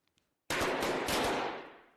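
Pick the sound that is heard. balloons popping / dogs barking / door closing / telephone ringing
balloons popping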